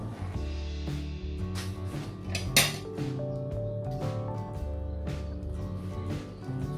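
Cooked cauliflower and carrots being stirred in a pan, with repeated metal scrapes and clinks of a utensil against the cookware, including one sharper knock, played over steady background music.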